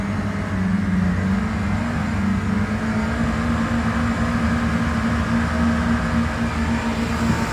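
Inboard engine of a 2008 Yamaha 212X wakeboard boat running at cruising speed on the water, a steady loud drone with constant hull and water rush throughout, no talking.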